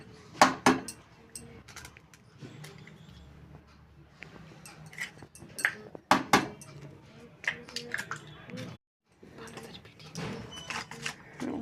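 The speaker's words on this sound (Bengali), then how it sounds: "মিক্স করার পর একে একে ডিমগুলোকে ভেঙে এর মধ্যে দিয়ে দিতে হবে।" Eggs are cracked one by one into a bowl of spiced mixture and beaten, giving sharp clinks and taps of shell and utensil against the bowl in irregular bursts, with quieter scraping and brief gaps between.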